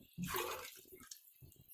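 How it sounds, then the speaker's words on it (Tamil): Tamarind water poured into a pan of sautéed ingredients for mudakathan kuzhambu, a quiet splashing pour that starts strong then trickles off in short bursts. "புளி தண்ணி ஊற்றிடுறேன்"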